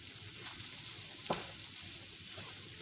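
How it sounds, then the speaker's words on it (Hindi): Vegetables stir-frying in a pan with ginger, garlic and crushed chili, a steady close sizzle with a brief scrape of stirring partway through. "इसको थोड़ा सा भूनेंगे।"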